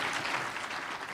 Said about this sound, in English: So give yourselves all a round of applause.